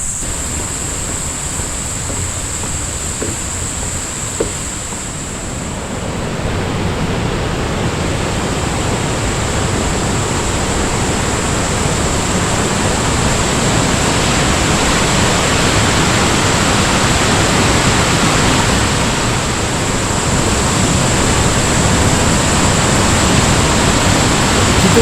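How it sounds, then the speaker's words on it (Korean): Bidulginang waterfall on the Hantan River, swollen after heavy rain, roars as a steady, loud, broadband rush of falling water with no pauses, continuous and close throughout. "진한 폭포가 보입니다."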